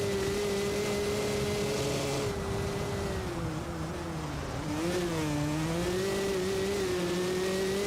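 A 250 two-stroke dirt bike engine in MX vs. ATV Legends drones loudly and continuously, its pitch dipping and rising as the rider eases off and revs again, close and without talk.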